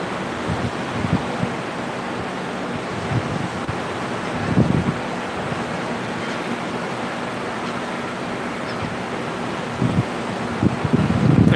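Steady wind and surf on Indian Rocks Beach, Florida, on the Gulf near Tampa Bay, form a continuous broad rush with occasional gusts buffeting the microphone.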